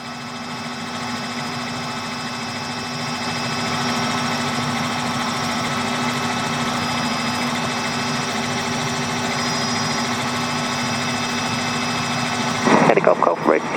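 A Robinson R66 helicopter engine runs steadily at close range, a constant whining drone with a low throb heard from inside the cabin, and a short burst of radio chatter cuts in near the end.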